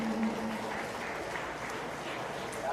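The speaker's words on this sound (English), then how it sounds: "Let's give those young people a big round of applause." Audience applause ringing out at a cattle show after a class of market heifers, a steady wash of clapping that holds at even strength for the whole short stretch.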